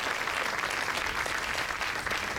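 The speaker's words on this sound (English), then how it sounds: "So applause for his brother Yuri" A Memorial Day ceremony crowd applauds a veteran's brother, who also served, with steady, dense clapping that runs unbroken from start to end at a moderate distance.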